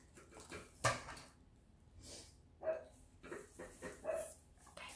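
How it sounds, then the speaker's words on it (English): Dog barking outdoors on a patio, a few faint, scattered barks heard from a distance amid light clatter in a quiet room. "there's a dog on the patio and he's barking at something."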